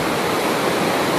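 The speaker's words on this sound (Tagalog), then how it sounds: "pahirapan dito ang lakas ng tubig" A strong river current rushes past, a loud, dense and unbroken roar of churning water that fills the whole moment with no voices.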